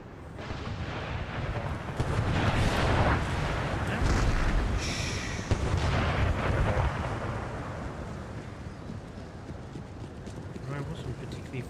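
Mortar artillery fire in Empire: Total War, a loud continuous barrage of booming blasts and rumbling impacts over battlefield din, with a voice talking over it.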